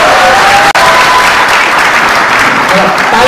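Wedding guests applauding after a Nepali couple is declared husband and wife, a loud, continuous wash of clapping with crowd noise and voices mixed in, briefly cut by a momentary dropout.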